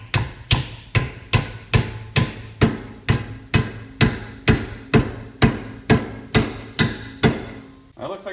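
Loud, close hammer blows strike a pipe held in a vise, about fifteen evenly spaced metallic whacks in a steady rhythm, each with a short ringing decay.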